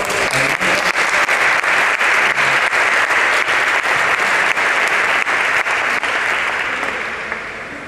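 An audience at a conference breaks into sustained applause to welcome a speaker, dense, even clapping close and loud throughout, easing off slightly at the end.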